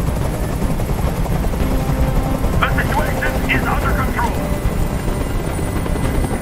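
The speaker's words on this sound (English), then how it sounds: "I can't stand that noise anymore. Tell that helicopter to get out of here." A video game helicopter hovering overhead in Detroit on PS4 makes a steady rotor drone that fills the background throughout, with a person speaking over it.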